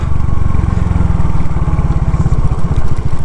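A semi-automatic motorcycle engine blips and revs hard, close and loud, in a quick rev-matched downshift, the pulsing exhaust note rising and then settling.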